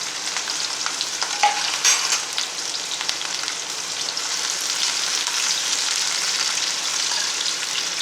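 Onions and chillies fry in hot oil with fennel seeds. A bright, even hiss and sizzle holds steady up close, with a few small pops and light stirring and no voices.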